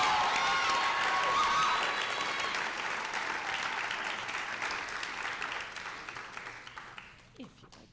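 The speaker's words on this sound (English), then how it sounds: "Everybody give him a round of applause." A crowd applauds at a health sciences university white coat ceremony, full, sustained clapping with some cheering that gradually tapers off over about seven seconds.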